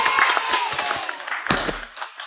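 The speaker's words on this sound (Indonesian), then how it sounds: "Congrats, tepuk tangan untuk Virgo" A small group claps and cheers briefly in a congratulatory moment for a departing team member, with scattered hand claps and a few voices mixed in over about two seconds.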